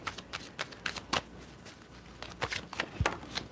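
Tarot cards are shuffled by hand in quick, crisp riffling bursts, close and clear, with short pauses between the flurries.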